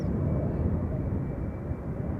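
A KLM Embraer 190 jet in SkyTeam livery heads out at Schiphol Airport, its engines a steady, broad roar that fills the air without a break, heard at a distance and with no voices.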